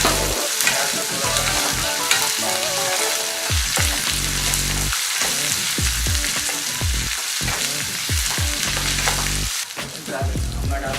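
Onions sizzle steadily in a hot pan while a spoon scrapes and stirs them for upma, a continuous loud frying hiss broken by repeated stirring strokes, with no talking.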